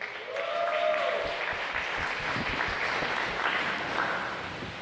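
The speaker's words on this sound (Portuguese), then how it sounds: "Vamos aplaudir a vida deles" A church congregation applauds a married couple during a family worship service, a moderate spread of clapping with a few sharper claps standing out and a faint voice or tone drifting underneath.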